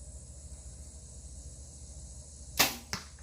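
An arrow loosed from a Hoyt Carbon Defiant bow indoors: a sharp whoosh and release snap, then a second thud shortly after, close against a quiet room hum with no talking.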